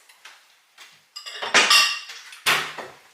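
A small spatula scrapes sugar cookie dough into a bowl, producing several sharp clinks and scraping strokes against the bowl, close and fairly loud, with a couple of louder bursts near the end.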